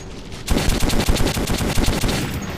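Rapid automatic gunfire from a weapon firing money as ammunition in the video game Metro 2033, a loud close burst of fast repeating shots lasting about two seconds after a brief quiet start.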